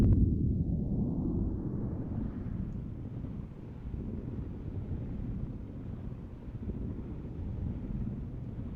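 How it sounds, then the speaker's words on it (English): A synthesized low, rolling rumble of distant thunder made in Native Instruments Massive sustains steadily with no other sounds, heavy in the bass and fading softly into a windy hiss. "distant thunder"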